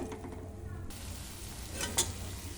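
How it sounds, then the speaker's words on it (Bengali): Okra and potatoes cooking in poppy seed paste in a pan, a steady soft sizzle of frying with a spatula scraping and stirring, and a sharp clink of utensil against the pan near the end. "এবার আমি এটাকে একটু নাড়াচাড়া করে আর একটু রান্না হতে দেব"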